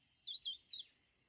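Cartoon banana bird chirping in four quick, bright descending tweets, the last slightly separated, clear and alone with no talk.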